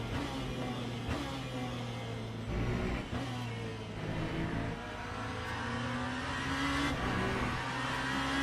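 Race car in Le Mans Ultimate, engine revving continuously with pitch climbing and dropping across gear changes, loud and close, brief tire squeal hints, no talking.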